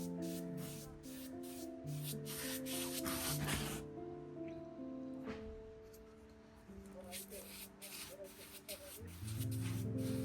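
Wood being hand-sanded, repeated rhythmic rasping strokes close by, pausing midway and resuming, with a person talking over much of it.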